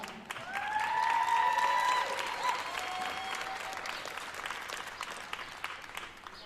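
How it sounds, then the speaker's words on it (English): A crowd applauds steadily for several seconds, clapping swelling quickly and then slowly thinning, with a few voices faintly underneath. "Let's give her a round of applause."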